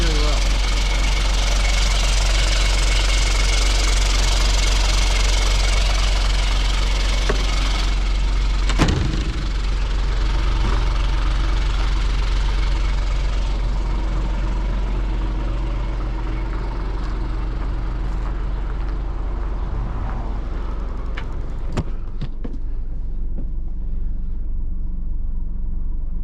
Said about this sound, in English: Mitsubishi Fuso engine.